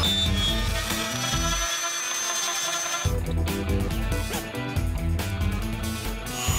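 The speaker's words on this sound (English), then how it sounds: "First, I'll use the Dremel to widen the space for the battery." A Dremel rotary tool grinds into a plastic prop to widen a battery compartment, giving a loud, steady close-up whine that dips briefly before resuming with rougher, choppier contact noise.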